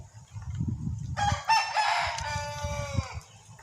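A rooster crows once, loud and drawn out with a falling tail, over low rumbling background noise outdoors near an evening meal of instant noodle soup.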